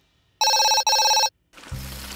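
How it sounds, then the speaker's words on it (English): A cartoon telephone rings in a garage workshop with two loud, bright electronic bell bursts in quick succession, then a pause before other noise begins. "Oh, I just need to answer the phone."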